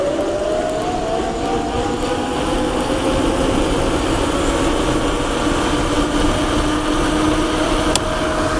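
An EV Global electric bike rides at full speed, giving a continuous rising motor whine over a steady rush of wind and road noise, close and unbroken.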